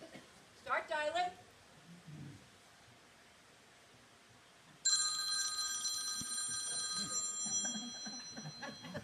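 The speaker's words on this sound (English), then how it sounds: "Let's phone a friend. Start dialing." Telephone ringing during a phone-a-friend call at a Wolf Laurel POA annual meeting game show skit: a short burst of dial tones and talk, then a loud, continuous electronic ring tone that carries to the end.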